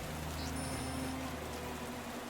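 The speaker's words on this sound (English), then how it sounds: "The rain spatters in" Steady spattering rain, a dense even hiss with a faint mechanical whine and low hum beneath, constant throughout.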